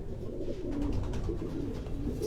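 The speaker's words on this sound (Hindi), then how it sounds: "ये वो कबूतर हैं, इनके चैंपियन, इनकी लाट के जो चैंपियन कबूतर हैं वो आपको दिखाए जा रहे हैं।" Racing pigeons coo softly and continuously in a loft, a low rolling burble from several birds close by, with no talking.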